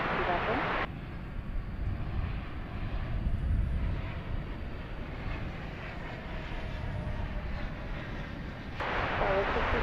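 Airplane engine at DFW Airport at night, a steady broad roar sustained for several seconds, fairly loud and even, with faint radio chatter at the start and end.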